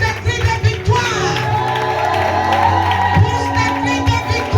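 A church congregation at a revival service in Bingerville shouts and cheers victory cries, a loud crowd of whoops and raised voices with overlapping shouting.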